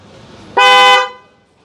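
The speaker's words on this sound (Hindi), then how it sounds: "अब मैं हॉर्न बजा के दिखा देता हूँ आपको।" An original Hyundai Creta car horn fitted to a Tata Nexon gives one loud, close, steady blast about half a second long, then fades out quickly, with no voices.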